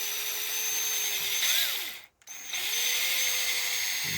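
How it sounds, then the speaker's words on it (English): A power drill whines as it bores out the hole in a broken fuel line nipple, a steady close-up motor tone that dips in pitch under load, cuts off briefly, then spins back up and runs on. "So I'm going to take my drill."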